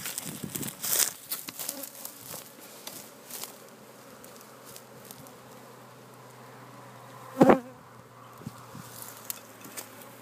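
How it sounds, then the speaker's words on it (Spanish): Honeybees buzz around open hives with a double brood chamber, a steady close hum with individual bees zipping past the microphone and one loud bump partway through. "Increíble estas colmenas."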